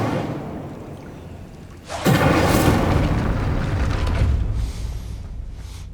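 A fiery Incendio spell from the Hogwarts Legacy game bursts in with a sudden loud whoosh and boom, then roars on as a sustained crackling rush of flame that slowly fades.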